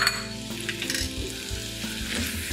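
Tomato frying with meat in a pan for a pork and lamb rice dish sizzles steadily at close range, with faint scraping stirs and no talking.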